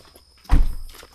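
A car door thumps shut once, a single loud, close impact with a short ringing decay, heard at night on an outing to Bukit Jugra with quiet surroundings before it.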